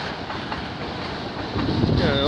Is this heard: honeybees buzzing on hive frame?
no